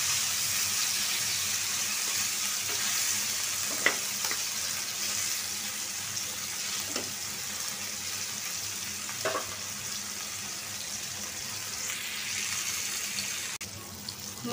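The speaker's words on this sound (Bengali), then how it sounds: "মাছটা ভাজা হোক। মাছটা এখন আমি উল্টায় নিব।" Pieces of fish fry in hot oil, a continuous soft sizzle at moderate distance with a few sharp clicks and scrapes scattered through, no talking.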